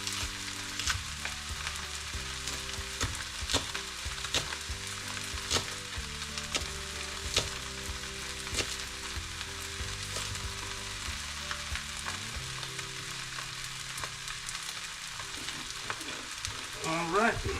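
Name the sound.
egg fried rice frying and being stirred in pan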